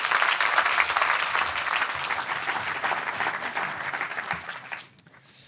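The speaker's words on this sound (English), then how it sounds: "Please give him a warm applause." Audience at a NATO summit defence industry forum applauding as the Dutch defence minister is welcomed, steady crowd clapping that fades and stops near the end.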